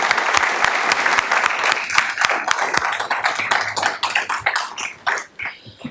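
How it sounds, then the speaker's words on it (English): Applause for students at a school board meeting: a room full of people clapping steadily, loud and dense, thinning out toward the end with a few scattered final claps. "Let's give all those students another round of applause."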